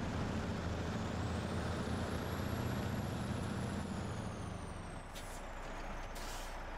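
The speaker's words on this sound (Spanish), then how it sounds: "El camión se nota bastante original al tener las marchas así." Heavy truck in SnowRunner with a realistic sound mod, a steady low diesel drone running throughout with a rising whine, then a sharp air-brake hiss near the end.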